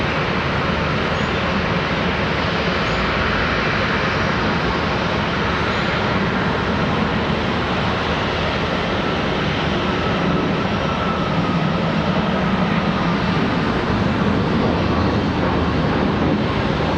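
A Boeing 737 MAX 8 jet departs Charlotte Douglas airport as a continuous broadband engine roar, steady and fairly loud across the whole stretch with no talk over it.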